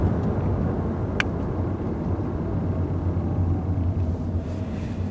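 A 2012 Chevy Volt out on a test drive gives a steady, even low road and cabin rumble throughout, with one faint click partway through.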